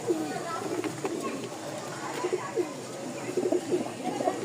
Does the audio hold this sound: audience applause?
no